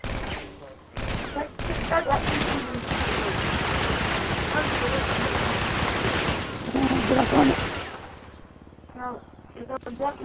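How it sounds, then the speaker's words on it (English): Gatling gun in GTA fired in a long, continuous roaring fusillade that fills most of the stretch, then cuts off with a voice talking afterward. "Shoot right here with your Gatling gun"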